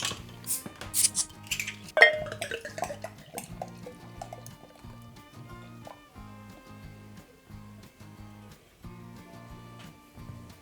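Beer is poured vigorously into several glasses one after another, glassware clinks sharply at the start and then short bursts of foamy liquid splash and gurgle in a repeating sequence, close and fairly quiet.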